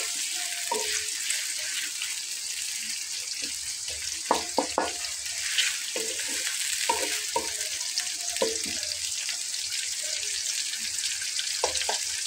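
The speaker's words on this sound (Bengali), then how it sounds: "পেঁয়াজটাকে দিয়ে চুলার আঁচটাকে আমি মিডিয়াম ফ্লেমে করে দিয়েছি।" Sliced onions frying in a pan over a medium flame for a chicken malai korma, a steady loud sizzle throughout with occasional scraping clinks of a stirring spoon.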